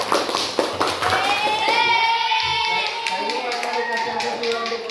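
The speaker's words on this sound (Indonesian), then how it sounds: "Kasih aplaus dulu. Kasih tepuk tangan ya." Schoolchildren in a maths class clap for group 3, a short burst of rhythmic hand claps over a teacher's and pupils' voices that fades into talk.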